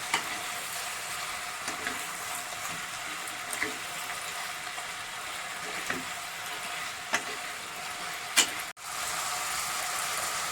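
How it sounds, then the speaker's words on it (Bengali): Vegetables with turmeric sizzle and fry in a pan while being stirred, a steady close hiss with occasional scraping clicks of the spoon, made while cooking chapor ghonto. "হলুদটা দেওয়ার পর আমি আবার সবজিগুলোকে মিশিয়ে নিচ্ছি।"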